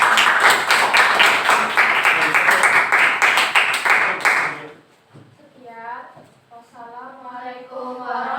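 Classmates applaud a student group after a presentation in a classroom, dense clapping for about four seconds that stops abruptly, followed by people speaking.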